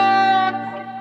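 Electric guitar played with a tremolo bar and reverb, a sustained chord bending in pitch and then ringing out into a reverberant tail, loud and alone.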